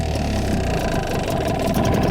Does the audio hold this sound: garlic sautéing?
no